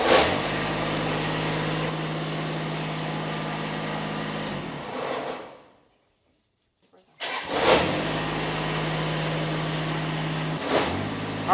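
A Kubota ZD1011 zero-turn mower with a 54-inch deck runs with a steady diesel-like engine drone, cuts out into near silence for about two seconds, then cranks and restarts to a steady idle.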